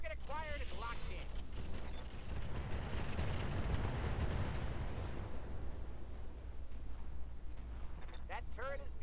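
A turret being destroyed in Roguetech, a long, rumbling explosion swelling and slowly fading, with robotic voice chirps at the start and end.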